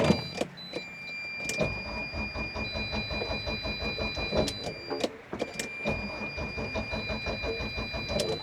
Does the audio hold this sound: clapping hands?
no